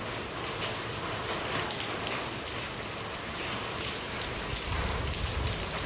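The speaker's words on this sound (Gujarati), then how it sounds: "વરસાદ આવી ગયો ને એટલે પછી ઊભા રહી ગયા અમે" Steady rain pours down near a temple in Gujarat, a dense, even hiss of drops hitting surfaces that stays constant and fairly loud throughout, with no voices.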